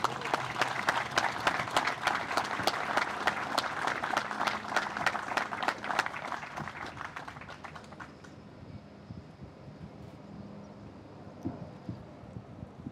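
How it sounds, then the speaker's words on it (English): Audience applause at a 25th Infantry Division ceremony honoring a Medal of Honor recipient with a plaque unveiling; brisk, crowded clapping rings out for about eight seconds, then fades away into quiet room tone with a few scattered claps. "Ladies and gentlemen, please join me in another round of applause."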